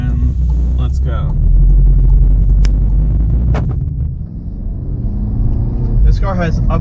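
A VW Golf R pulls away hard in first gear in sport manual mode, a loud, close engine rumble with wind noise swelling and easing over several seconds; a person talks over it.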